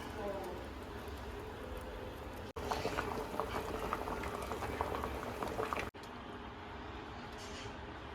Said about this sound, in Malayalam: അപ്പോൾ നമ്മൾ കപ്പയോടെ പുഴുങ്ങാൻ വെച്ചിട്ടുണ്ട്.